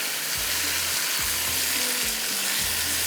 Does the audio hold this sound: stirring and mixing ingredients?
yes